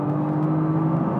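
A 2013 Nissan GT-R under hard throttle on the Spa circuit, its engine holding a steady, loud, droning tone through a brief stretch with no one speaking.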